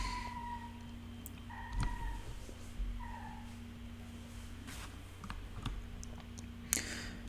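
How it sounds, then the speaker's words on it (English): A house cat meows several times, a couple of short rising calls near the start, over a quiet room hum with scattered soft clicks. "that's just one of my cats has just walked in and decided to announce himself to the world"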